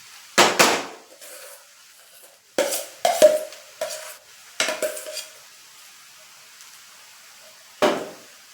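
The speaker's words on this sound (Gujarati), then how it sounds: "હવે આપણે બરાબર મિક્સ કરી લેશું તો અહીંયા મસાલો બરાબર મિક્સ" Mashed potato filling for aloo paratha being mixed with spices, a spoon scraping and knocking against a metal vessel in about six separated bursts, close and fairly loud, with quiet gaps between and no talking.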